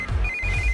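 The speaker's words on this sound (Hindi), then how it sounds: "इस वक्त दीदी का फोन।" A telephone rings with a steady electronic trill, one short burst and then a longer continuous ring, set over low background rumble with no talk.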